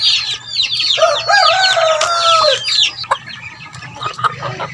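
A gamecock rooster clucks and crows close by in a run of quick, bright rising calls, followed by scattered clucks and knocks over a low background hum.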